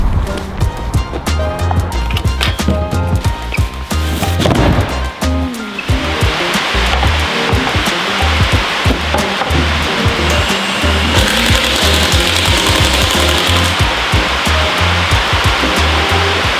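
Heavy monsoon-like rain pouring outside a garage where a Honda Civic Type R FK8 is being built into a race car, a dense constant hiss behind clattering work noises, loud and continuous.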